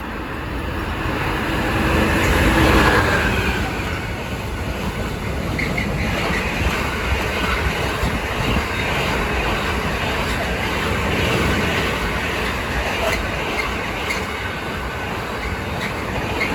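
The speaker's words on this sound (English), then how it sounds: "The next train to pass by is going to be a Freightliner Class 66 from Felixstowe North FLT to Trafford Park FLT." A Freightliner Class 66 freight train bound from Felixstowe North to Trafford Park rumbles past for the whole stretch, with steady rolling wagon noise, clickety-clack and faint wheel squeal, loud and close throughout.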